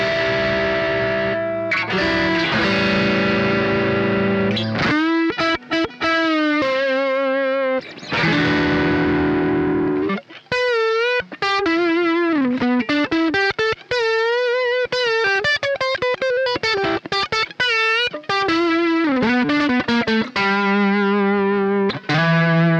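An electric guitar, a Stratocaster set up for a specific tone, plays continuous overdriven lead lines with sustained, singing notes, bends and quick runs, loud and close with no talk.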